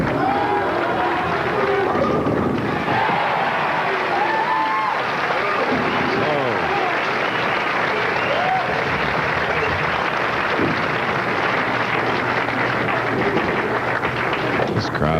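A bowling tournament crowd at Landmark lanes for the 1993 True Value Open cheers and applauds steadily throughout, a dense sustained roar with scattered claps and thuds, with some talk mixed in.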